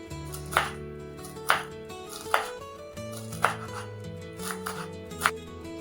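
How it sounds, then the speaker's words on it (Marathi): A knife finely chops a quarter kilo of cabbage on a board, giving a run of crisp, evenly spaced thuds roughly one per second, close and clear over low background hum, with no speech. "आता हा आपण बारीक चिरून घेऊया"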